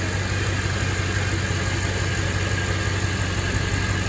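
Steady idle of a Mercedes-AMG car engine, a constant low rumble with an even hum and no revving, close and continuous throughout.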